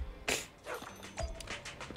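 A dog barks in the video game Zenless Zone Zero, with a sharp close yelp near the start and a few softer yips and whimpers after it, set over game music and ambience.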